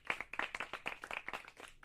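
An audience claps in quick, uneven bursts, a steady run of sharp hand slaps that carries on throughout at moderate loudness.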